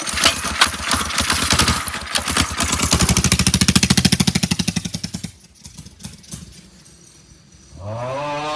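A 212 minibike engine sputters and chugs through a rapid pulsing run, then cuts out, leaving a quiet gap before a rising whine returns near the end.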